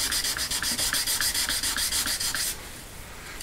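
Sandpaper rubs back and forth over the frets of a Telecaster guitar neck in a fast, even rhythm of close, raspy strokes that stop abruptly, leaving quiet room tone.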